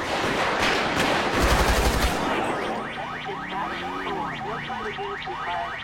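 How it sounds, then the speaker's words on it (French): Gunfire erupts in GTA V with the LSPDFR police mod during a terrorist attack on a police station: a rapid, loud burst of shots fills the first two seconds, then gives way to quieter game sounds. "Ah, coup de feu."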